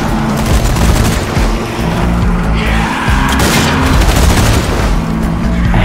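Machine gun fire in Zombie Army 4, dense rapid bursts mixed with booms and chaotic game noise at high volume throughout.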